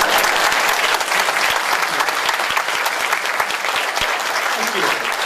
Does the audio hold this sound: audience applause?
yes